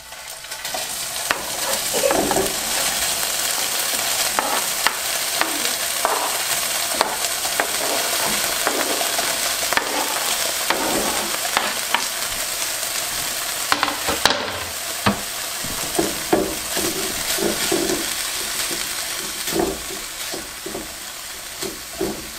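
Ham fries in a little oil in a pan on a stove over medium heat, with a steady, loud, close sizzle broken by scraping and clinking as it is stirred throughout.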